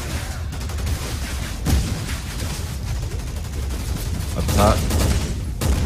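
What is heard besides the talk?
sniper rifle shots in the video game Resident Evil 6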